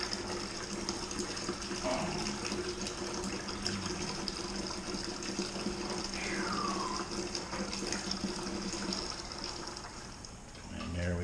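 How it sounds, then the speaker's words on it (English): Home-brewed vanilla coconut brown ale runs from a hose into a second bucket, a steady close gushing and splashing of liquid filling the vessel throughout, with a faint background whine. "The the second bucket is being filled."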